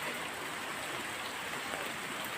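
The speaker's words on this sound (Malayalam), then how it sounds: "നല്ല ഹൈ ഫ്ലോയിലാണ് വരുന്നത് വെള്ളം." Rainwater stream rushing at high flow, a steady, dense broadband wash of churning water heard close and continuous with no other sounds.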